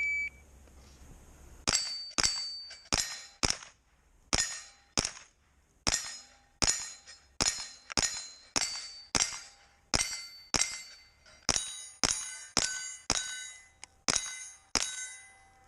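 Rifle shots ring off steel targets at an outdoor shooting match, a long string of about twenty sharp metallic pings at irregular, fairly quick intervals, each with a short ringing decay.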